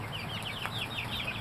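Chickens at a backyard coop cluck softly in a quick string of short, chirpy calls, moderately distant over a low background hum.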